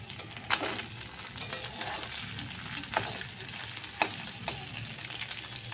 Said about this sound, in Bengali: মাছ ভাজাটা হয়েই এসছে, এবার আমি এটা নামিয়ে নেব